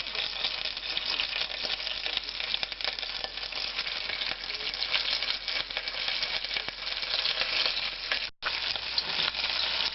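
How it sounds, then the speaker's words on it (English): Oxtails frying in hot oil, a continuous, dense crackling sizzle at close range with a brief dropout near the end. "The oil's been heating it up in there. Now I'm placing the oxtails in."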